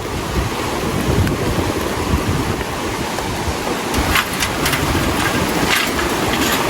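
Loud, continuous rushing river water with a roaring, wind-buffeted texture, close to the microphone, with no voices.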